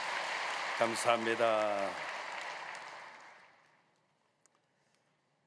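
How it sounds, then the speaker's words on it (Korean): A church congregation at a Friday evening service at Yoido Full Gospel Church applauds the Gethsemane choir, a dense wash of clapping that fades out over about four seconds while someone speaks briefly over it. "우리 겟세마네 찬양대에게 뜨거운 감사의 박수 한번 주시겠습니다"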